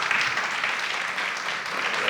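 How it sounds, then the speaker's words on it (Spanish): At an education week event, an audience gives a short burst of dense, even applause that holds steady for about two seconds. "Lorenzo, un aplauso otra vez para él."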